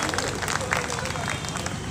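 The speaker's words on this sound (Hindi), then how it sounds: "इनको जोरदार ताली से इनको जोश भरे" A crowd at a rights rally on a Ramlila ground breaks into sustained applause, a dense, steady wash of clapping with voices mixed in.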